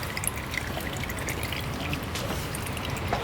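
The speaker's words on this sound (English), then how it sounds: "Time to start draining all these fluids out of it." Fluids drain from a Honda car during an engine swap, a steady thin pouring trickle into a container, fairly faint and continuous with no voices.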